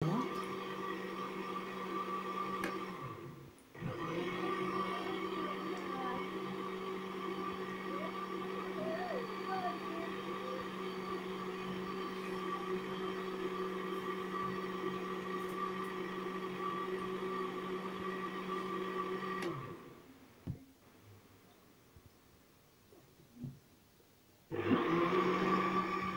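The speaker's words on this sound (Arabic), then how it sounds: "وتنشغلو الخلاط الكهربائي" An electric blender mixes plain cake batter with a steady, loud motor whir that dips briefly early on, runs continuously, then cuts out near the end before switching back on for a final burst.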